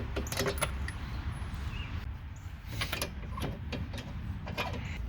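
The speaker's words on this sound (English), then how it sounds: "Now I'm adjusting the parking brake." Parking brake adjustment on a Mazda Miata, faint metallic clicks, ratcheting and small mechanical rattles in short clusters, close and quiet, with no voices.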